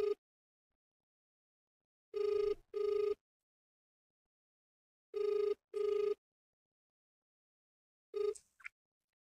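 A phone line rings in paired electronic trills, repeated three times with long silent gaps between, then a short burst of noise as the call connects.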